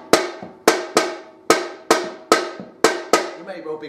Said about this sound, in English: our clave sounds like this.